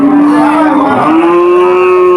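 A cow lets out one long, loud moo at close range amid a busy cattle market at Udaypur haat in Mollahat, Bagerhat, where animals are sold for Qurbani.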